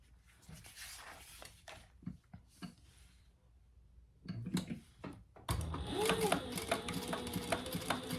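A sewing machine runs steadily as it topstitches shoulder bag straps, getting louder and denser in the last few seconds after quieter handling noises.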